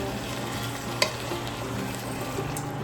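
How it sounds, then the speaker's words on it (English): Chopped onion browning in a pan for sloppy joe filling, a steady close sizzle with a faint clink of stirring partway through, no voices. "I want the onions to brown a little more"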